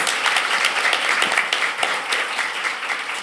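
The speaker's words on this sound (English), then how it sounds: "a big round of applause for our panel" An audience at a Melbourne talks event applauds a panel with close, lively clapping that runs steadily from start to finish without voices.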